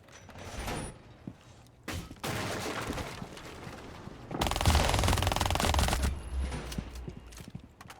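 Gunfire in the Rainbow Six video game, bursts of rapid automatic shots separated by short gaps, the densest and loudest burst near the middle, with no talk over it.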